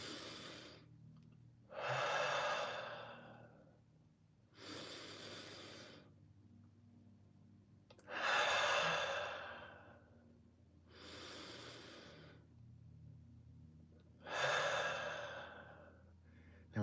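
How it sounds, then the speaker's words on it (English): A small group of about a dozen people takes three slow, deep breaths together, each long inhale and exhale soft and airy, rising and falling in a steady rhythm without speech. "take three intentional deep breaths."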